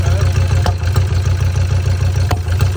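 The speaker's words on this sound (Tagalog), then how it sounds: "Kita natin dito na nag-backfire yung intake." Ford Ranger engine idling with intake backfiring, a loud low rumbling drone with a few sharp pops breaking through, close up.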